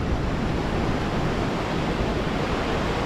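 Broadband wash of Pacific Ocean surf at the end of Santa Monica pier, steady and continuous with some wind noise, no talking.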